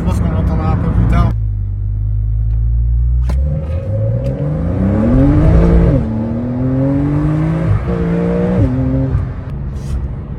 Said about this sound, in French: Le bon retour du moteur, petit pop.